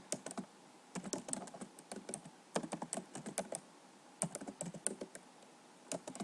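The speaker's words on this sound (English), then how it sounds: "you're going to type it out" Fingers tap away on a computer keyboard in quick, uneven bursts of close, clicky keystrokes, pausing briefly between runs of words, alone with no voices.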